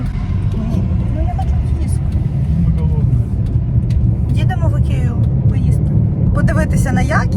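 A car driving along a road, heard from inside as a loud, steady engine and road rumble that never lets up, with people talking over it.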